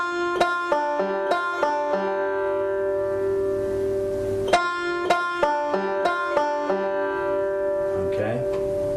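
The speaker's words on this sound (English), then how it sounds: "we're going to play 2 backward rolls" A fretted string instrument, likely a banjo in the old-time tune Train 45, picks two quick backward rolls across the first three strings, giving bright, ringing plucked notes in short bursts at a moderate, close-up level.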